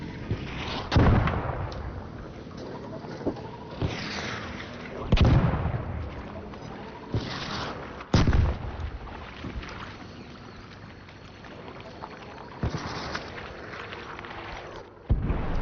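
Missiles exploding in a video game, several loud booming blasts spread across the span with rumbling decay, set against a continuous washing engine-like background.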